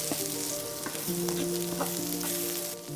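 Chinese broccoli stems stir-frying in a hot wok, a dense bright sizzle with occasional spatula scrapes and tosses over a faint background hum, close and continuous without speech.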